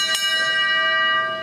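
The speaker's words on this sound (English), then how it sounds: "we'll ring the bell," A single bell is struck at a motorcycle race finish line at the Joan Harris Pavilion to mark a competitor's arrival, ringing out clearly with a long, shimmering sustained tone.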